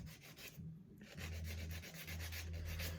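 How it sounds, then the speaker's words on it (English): Steady close rubbing of a buffer across fingernails, a continuous scratchy swishing in short back-and-forth strokes with a brief pause near the start, quiet and without talk. "So I'm almost finished buffing my nails."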